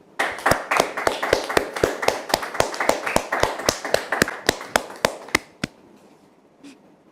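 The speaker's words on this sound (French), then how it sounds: "merci de le recevoir sous vos applaudissements, s'il vous plaît" A studio audience applauds a guest's entrance on a French talk show, a burst of dense hand-clapping that holds steady for about five seconds and then cuts off into near silence.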